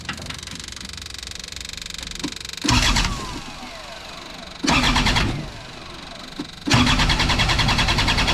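Diesel engine cranking in bursts to bleed air from the injector lines after an injector failure, three loud starter-and-engine surges separated by quieter idle-like stretches, close by with no talk.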